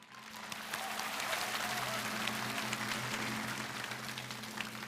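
Sustained audience applause fills a lecture hall on a televised talk show, a steady dense clapping that swells and holds for several seconds with no speech over it.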